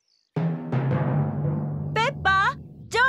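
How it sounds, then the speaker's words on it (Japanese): In a Peppa Pig cartoon, a sudden clap of thunder is followed by a low rolling rumble that fades slowly. A voice then speaks over the tail of the rumble. "雷の音よ。"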